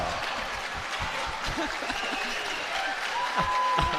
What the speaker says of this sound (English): The crowd is loving Leigh Whitwell